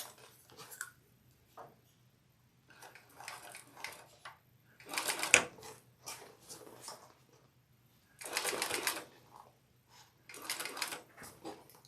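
A sewing machine stitches fabric for a Brunella bag in short bursts of rapid mechanical whirring, separated by pauses with quiet handling noises, close and fairly soft.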